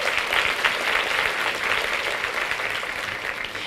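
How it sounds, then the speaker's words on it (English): Sustained applause from a gathered audience at a workplace recognition event, many hands clapping in a dense, even roar that holds steady and tapers slightly at the end. "can we give him a round of applause?"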